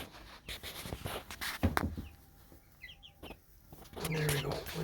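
Backyard homestead chickens cluck in short bursts inside their coop, with a person talking quietly over the birds amid faint rustling.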